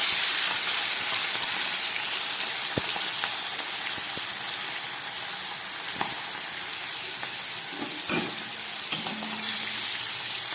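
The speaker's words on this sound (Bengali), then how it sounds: "আমি চিংড়ি মাছগুলো ভেজে নিচ্ছি।" Shrimp frying in a wok of hot oil, giving a steady close sizzle and hiss that runs throughout with a few small pops and stirring knocks, and no talking.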